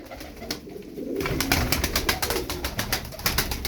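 Turkish tumbler pigeons coo in soft, rolling calls, close and fairly clear over a steady background hiss, continuing through the short stretch.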